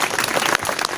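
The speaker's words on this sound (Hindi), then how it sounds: "यहाँ तालियां आनी चाहिए थी समाज की" Brief burst of audience applause at a Hindi poetry recital on Rajput history and jauhar, dense and steady clapping for about a second.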